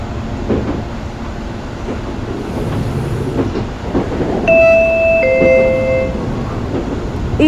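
CPTM commuter train at a São Paulo station, with rumbling carriage noise and clicking under a steady hum, then a two-tone electronic chime near the end over the running train.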